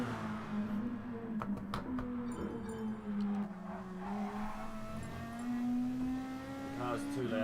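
A touring car racing engine drones with a steady pitch that rises and falls as it revs, while a voice talks quietly underneath.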